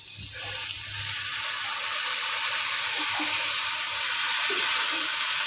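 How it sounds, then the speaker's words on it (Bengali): Water poured into a pan of spices frying in oil, with ground coriander, cumin, turmeric and salt, for a silver carp fish curry: a steady, loud rushing hiss and sizzle that runs continuously throughout, with no talk. "এবার আমি জল দেব"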